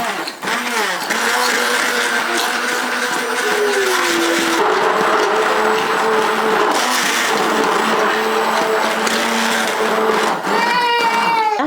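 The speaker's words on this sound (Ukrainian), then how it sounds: "Та пробиваю блендером." An electric blender purees a custard cream mixed with butter and gelatin for a cake: a loud, steady whirring motor runs almost without break, its pitch shifting slightly as the mixture thickens.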